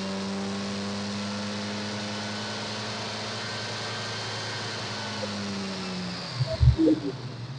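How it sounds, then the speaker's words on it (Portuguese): A Ford CHT car engine with a Weber 460 carburetor idles with a steady, close hum, then gives a few short rough blips and clunks near the end. "Você tem que escutar o motor."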